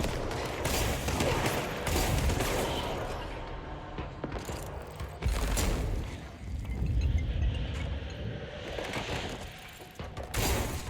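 Rapid bursts of gunfire from the game Control crackle in dense, repeated volleys with heavy impacts between them, loud and close, with no voices over the shooting.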